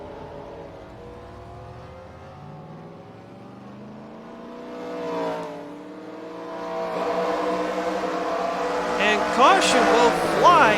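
Race cars on the Motordrome Speedway bullring track rise in pitch as engines rev and pass, with whining harmonics and a brief tire squeal near the end, all under an excited commentator calling the action.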